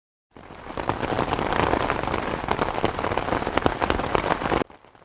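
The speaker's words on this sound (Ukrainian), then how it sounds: "Коли дощик пада з неба, люди кажуть так і треба." Steady rain pattering on a surface, a dense hiss of drops heard alone, continuing evenly and then cutting off.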